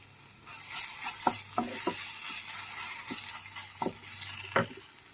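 Coriander leaf paste frying in a pan, a soft steady sizzle with scattered scraping stir strokes of a spoon against the pan, fairly close and alone with no voices.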